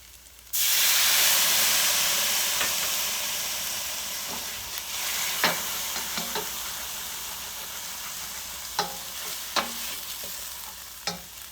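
Water hits a hot pan of peas and rice with a sudden loud hiss of steam that slowly fades into steady sizzling, punctuated by occasional scrapes and clinks of stirring.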